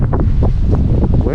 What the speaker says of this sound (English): Windy over here.